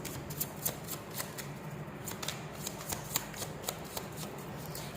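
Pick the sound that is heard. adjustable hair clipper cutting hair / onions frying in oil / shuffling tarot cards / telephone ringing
shuffling tarot cards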